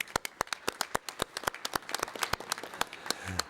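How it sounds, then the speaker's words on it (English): Brisk applause for conference panelists at an interparliamentary session, steady rhythmic clapping from a modest audience lasting a few seconds, close and clear with no talking over it. "please join me for a round of applause for all of them."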